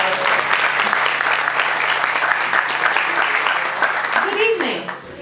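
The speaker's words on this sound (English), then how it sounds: "Let's give the choir another round of applause." Audience applauds a church choir, a dense sustained wash of clapping with a few voices and a whoop inside it, fading out at the close.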